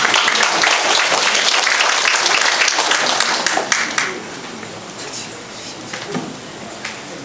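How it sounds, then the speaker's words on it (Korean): Applause from a seated audience at a Korean inauguration ceremony, a dense burst of clapping that fades after about four seconds into scattered claps and room noise. "큰 박수로 맞이해 주시기 바랍니다."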